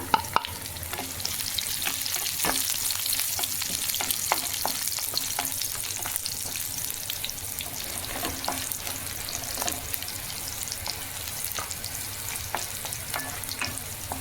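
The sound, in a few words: dried red chillies frying in pan for chutney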